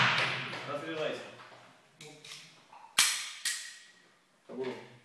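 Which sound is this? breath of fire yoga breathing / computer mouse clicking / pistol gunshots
pistol gunshots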